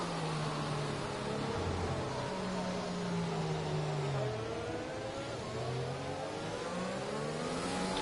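A race car engine revs hard in a racing video game on the Azerbaijan circuit, its pitch rising and falling in continuous sweeps that stay loud and close throughout, with no voices.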